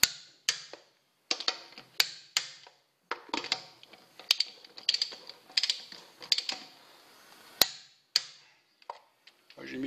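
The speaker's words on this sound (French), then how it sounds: "on serre, pas au pistolet à choc, mais à la clé dynamo" A torque wrench tightens wheel nuts on a Peugeot 504 tipper, giving a close series of sharp, dry clicks and ratcheting ticks in irregular bursts, with short silent gaps between them.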